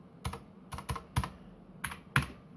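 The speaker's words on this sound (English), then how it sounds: "I found, when I first started using it, I love the click sound." Keys clatter on a cheap mechanical keyboard, about six sharp, crisp clicks close up at an irregular pace, some in quick pairs, with quiet gaps between presses.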